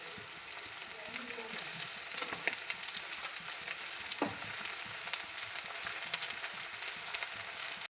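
Water spinach greens frying in hot oil with garlic, a continuous bright sizzle and crackle with a few clatters as the leaves go into the pan, close, with a voice talking over it.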